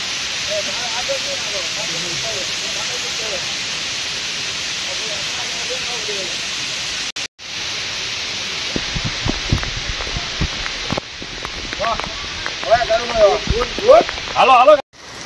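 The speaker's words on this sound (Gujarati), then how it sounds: "ધીમો ધીમો વરસાદ ચાલુ છે" Light monsoon rain falls on the hill steps of Datar near Wellington Dam as a steady, soft broadband hiss. Footsteps and voices come in during the second half.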